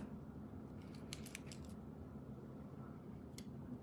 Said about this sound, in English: And I should use my ribbon scissors